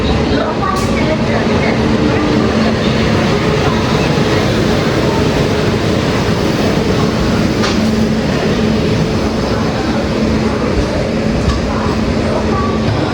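An Indian Railways train, the Amarkantak Express running from Bhopal to Durg, produces a loud, unbroken rumble and rattle that holds steady throughout, with faint squeals and clanks mixed in.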